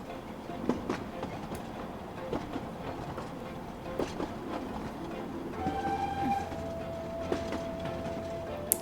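Train in the video game Of Sense and Soul: a steady rolling rumble with clattering and a sustained horn-like whistle tone entering in the latter half, moderately loud and continuous with no talk.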